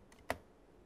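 A single faint keystroke tap on a computer keyboard while typing a ping command in Linux, one short click in an otherwise quiet moment.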